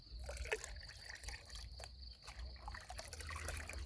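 EM microbial solution is poured and mixed into about ten litres of water: a faint, continuous trickle and slosh with no voices.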